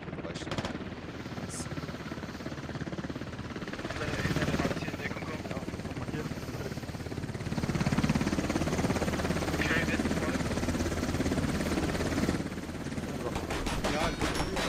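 Helicopter flying in the military shooter game Squad, its rotor drone steady and loud throughout, with bursts of gunfire and other battle noise mixed in.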